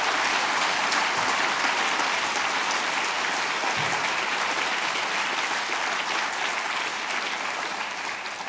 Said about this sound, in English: That's got to give a round of applause, isn't it?